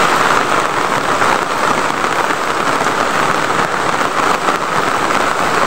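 Steady rain falls outdoors in a dense, even hiss that runs loud and unbroken from start to finish, with no voices.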